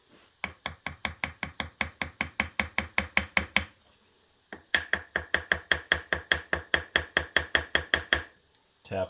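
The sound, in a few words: small hammer tapping sides of concrete forms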